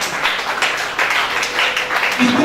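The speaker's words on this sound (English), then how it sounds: "So make it very loud. Clap for yourself." Women in the audience at an asthma and respiratory disease awareness workshop clap together, a steady crowd patter with brief swells, moderately loud and continuous throughout.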